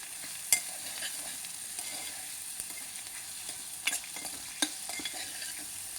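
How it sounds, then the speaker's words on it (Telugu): Onions frying in a pan for a taro root stew, with a steady soft sizzle and occasional scraping stirs from a utensil, one sharper knock early on, no voices. "ఉల్లిపాయలు వేగనిద్దాం"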